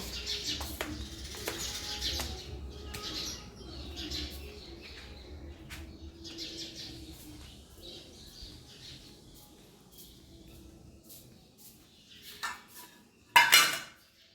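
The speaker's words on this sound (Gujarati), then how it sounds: "ચકલીઓ અહીંયા થઈ જાય છે." Sparrows chirp in short intermittent bursts around a home, mixed with faint clinks of dishes and utensils, and a sharp louder clatter comes near the end.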